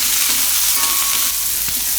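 Cauliflower florets with turmeric sizzle steadily in a hot pan, a continuous close frying hiss with a few soft stirring knocks, with no voices.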